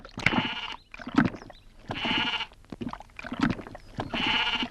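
A goat bleats in a rural household, giving three long, wavering bleats with short gaps between them. The bleats are fairly close and clear, with some faint background noise and no speech.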